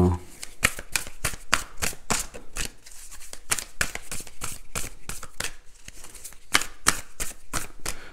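Oracle cards are handled and shuffled in the hands, giving a rapid series of crisp riffling flicks and slaps, close and fairly loud, while someone talks intermittently over them.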